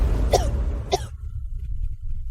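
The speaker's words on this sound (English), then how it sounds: "Iris, you're coughing up blood again." A woman coughs twice, sharp and close, with a brief raspy catch after each, then quiet with low background noise.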